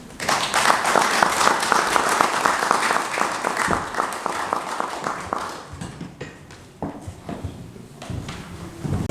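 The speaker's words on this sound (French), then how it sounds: "je demande qu'on puisse encore applaudir ces deux dames ici" Applause from an audience at a press conference held at a Brussels city hall, a loud burst of clapping that thins into scattered, irregular claps near the end.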